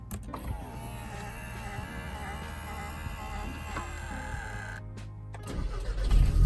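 An Audi S3 from 2011 (8P generation) cranks and fires up, its engine settling into a steady idle, then swelling louder near the end as revs rise.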